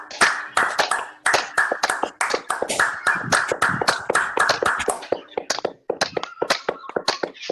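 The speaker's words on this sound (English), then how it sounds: "you have to clap vigorously" Vigorous hand clapping by a small group during a group immunity-building practice session, loud, rapid and uneven claps running continuously close by, with brief stutters and slight gaps in the rhythm.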